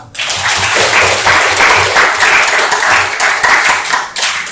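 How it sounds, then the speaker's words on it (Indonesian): Students in a classroom applaud together, loud, close and continuous clapping from a group that holds steady for several seconds before tapering slightly at the end. "Tepuk tangan untuk kalian semua."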